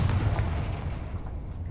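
A booming blast from the Confringo fire spell in the game Hogwarts Legacy, a single deep explosion that rolls and decays over under two seconds, moderately loud with no voices.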